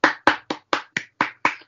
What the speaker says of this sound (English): Round of applause for you.